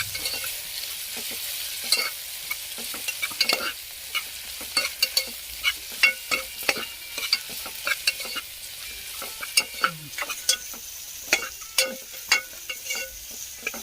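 Green chilies and dried red chilies being sautéed in a pan, a faint sizzle beneath many crisp spoon scrapes and taps that come in uneven bursts, growing busier toward the end, with no one speaking.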